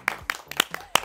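A small group clapping five separate, sharp claps in an uneven rhythm, close and brief.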